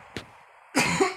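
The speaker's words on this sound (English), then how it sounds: "I'm gonna cough here just a little" A short, soft cough, followed by a louder throat-clearing burst, close by.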